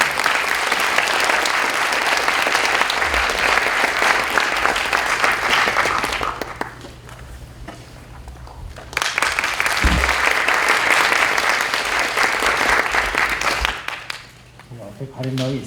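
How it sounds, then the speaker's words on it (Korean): An audience at an academic lecture applauds to welcome a priest speaker, with sustained dense clapping that dips briefly midway and then swells again before fading, and a voice begins speaking at the end. "큰 박수로 환영해 주시기 바랍니다."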